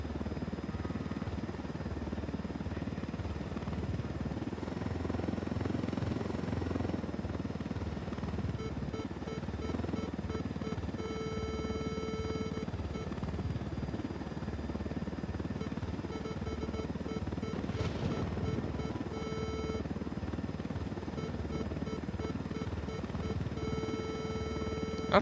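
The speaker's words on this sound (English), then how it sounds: "Not really sure how this chopper remains undetected" A helicopter flies in the video game Ghost Recon Wildlands, giving a steady low rotor and engine drone that holds throughout, along with faint game tones and effects.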